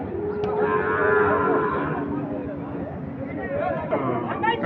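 A bull lets out a long, loud moo close by, followed by more lowing amid crowd chatter and voices at the busy Ambari livestock market.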